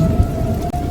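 Evening rain pours steadily as a loud, dense wash of drops on surfaces, with a low rumble beneath and a faint steady tone, no voices.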